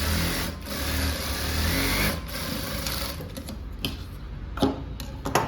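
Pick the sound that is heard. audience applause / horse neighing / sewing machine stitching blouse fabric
sewing machine stitching blouse fabric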